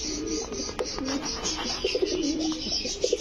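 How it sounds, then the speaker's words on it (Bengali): Large pigeons at a pigeon breeding farm coo steadily in low, throaty rolling calls, with a few brief sharp flutters or clicks mixed in, fairly close and continuous, no talking. "তো মাশাআল্লাহ, সবগুলো কবুতরই বড় সাইজ আছে।"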